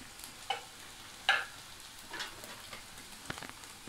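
Onions and crushed fennel seeds sauté in a pan for a south Indian ivy gourd fry, making a faint, soft sizzle with a few short stirring scrapes and a sharper knock at the end.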